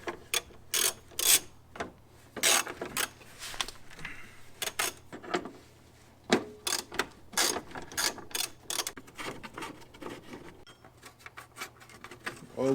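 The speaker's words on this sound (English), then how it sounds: "next thing we'll do is remove this plastic tray here" A ratchet works fasteners while a plastic tray is removed from under a Toyota MR2 SW20, close clicking bursts in irregular runs separated by short quiet gaps, with no talking.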